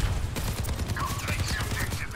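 Reaper's shotguns fire in Overwatch 2, a rapid, dense string of low, punchy blasts rolling on without pause, mixed with faint higher game effects.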